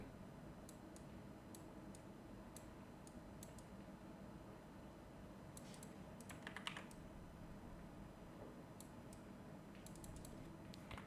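Typing on a computer keyboard during a Canva design session, with irregular clusters of light clicking keystrokes, moderately close, over a steady background hum and no talking.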